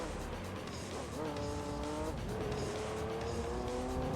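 Race car lapping the Complex String circuit in Gran Turismo 3, engine droning under a faint commentator's voice, with rising gear-change whines and some tire squeal as it corners.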